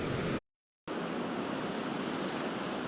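Ocean surf rolls in at an Onslow County beach, a steady, loud wash of breaking waves with wind in it. The sound cuts to silence for a moment early on, then the dense roar carries on.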